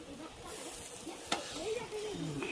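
Tandoor fish sizzling gently in butter in a pan, a soft steady hiss close by with a small clink partway through and faint background voices.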